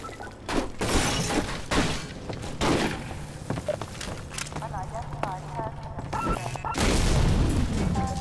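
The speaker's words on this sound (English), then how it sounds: "I love the explosions." Explosions in the Half-Life 2 video game, a series of loud booming blasts and shattering crashes arriving in irregular bursts, the heaviest at the start and near the end.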